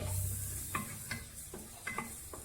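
Onions and curry leaves sautéing in a pan for a kingfish biryani, a steady background sizzle broken by several soft stirring scrapes of a spoon against the pan.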